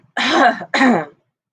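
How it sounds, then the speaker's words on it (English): Two short, harsh coughs in quick succession, close and clear, then silence. "she coughs a bit."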